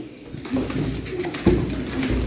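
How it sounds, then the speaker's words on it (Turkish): White and smoky-grey domestic pigeons coo softly in a short, close burst of low murmuring calls over steady background noise. "kuşlar, dumanlı kuşlar kendi kuşlardır, beyaz kuşlar bizimdir"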